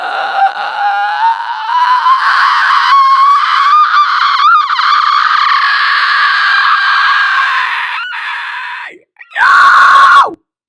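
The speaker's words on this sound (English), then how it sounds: "take that inhale scream you did from the first method and bring it up as high as possible within your range" A human voice performs an inhale scream, a sustained raspy shriek drawn in on the breath and pushed steadily higher in pitch toward a shrill whistle-register tone, loud and close, breaking off briefly before a final sharp burst.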